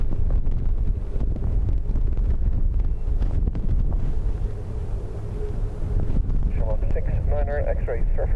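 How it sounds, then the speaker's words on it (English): Strong storm gusts roar at an airport during high winds, a loud, continuous rushing buffet of wind on the microphone, with a radio voice speaking faintly near the end. "Matt, you can feel the gust picking up now, and you hear it there"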